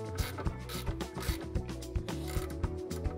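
Ratchet wrench clicking in quick repeated strokes while snugging a coilover bolt on a Mazda Miata, close and fairly quiet metallic ratcheting with small knocks, no talking.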